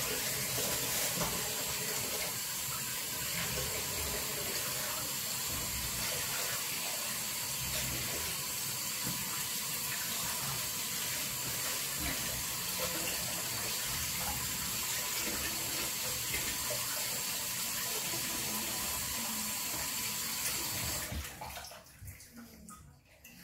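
Tap water runs steadily into a kitchen sink while a rabbit is washed for a pie, a continuous hissing splash that cuts off near the end, with some faint talk.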